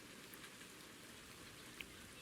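Steady rain falls in the Ultimate Fishing Simulator game, a soft, even hiss of drops on a surface holding at constant low level for the whole stretch with no voices.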